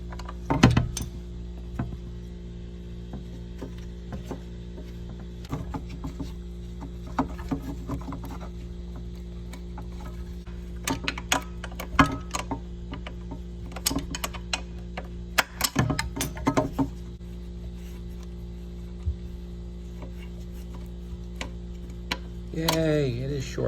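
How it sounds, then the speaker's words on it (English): A wrench turns a 10mm bolt on a Suzuki LT80 quad, producing sparse close metallic ticks and clicks over a steady low hum, with short bursts of ratcheting and clanks of tools. "So I'm going to try to put a wrench on that and see if it's short"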